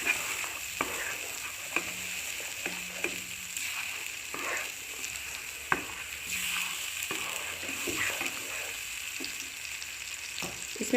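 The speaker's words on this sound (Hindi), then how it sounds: "और अब मसाले को अच्छे तरीके से पहले हम भून लेंगे" A masala of onion paste, garlic, ginger, tomato and spices, loosened with a little water for an egg and potato curry, sizzles softly in a pan while a spoon stirs it, with regular scraping clicks over a steady fry.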